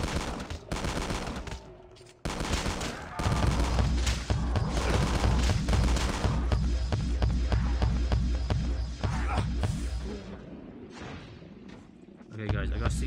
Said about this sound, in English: Oh, he's shooting from the other side.